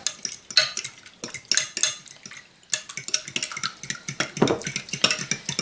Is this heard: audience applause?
no